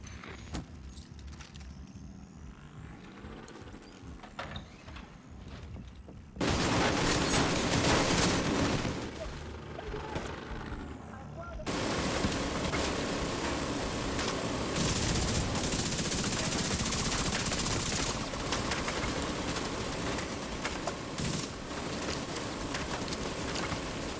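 Detonated ammo stockpile in The Division 2, a sustained barrage of loud crackling explosions and rapid gunfire-like pops that kicks in suddenly after a quieter stretch and keeps going continuously.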